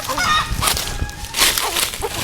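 A native country chicken gives loud, close, agitated squawks and honking cries in quick irregular bursts, with no talk.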